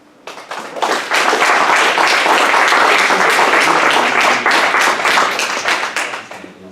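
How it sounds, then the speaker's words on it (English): A lecture audience claps vigorously, dense applause that swells quickly after a quiet start, holds steady and loud for several seconds, then thins out at the end. "thank you for clapping so vigorously"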